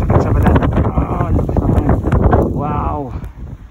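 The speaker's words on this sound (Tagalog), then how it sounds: "Pero malakas ang hangin tapos grabe ang kulog ng snow." Strong blizzard wind in Red Deer, Alberta, at minus 19 buffets the microphone with loud continuous roaring gusts, while people talk over it.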